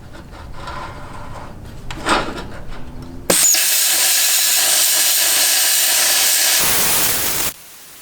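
Welding along the seams of a metal box on a metal bench table, a steady loud crackling hiss that starts abruptly after a quieter stretch, holds evenly for about four seconds, then cuts off.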